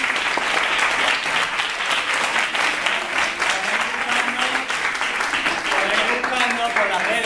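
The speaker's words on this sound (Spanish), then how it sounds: "Un fuerte aplauso para Silvia Reyes." An audience at a flamenco talk gives Silvia Reyes sustained, dense applause that holds steady and fairly loud throughout, with faint voices underneath.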